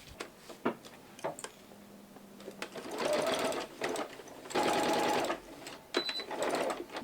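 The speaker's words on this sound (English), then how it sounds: "you're just going to sew it down on all 4 sides" A sewing machine stitches down all four sides of a fabric drawstring bag, running in short close bursts of rapid stitching separated by brief pauses and faint handling.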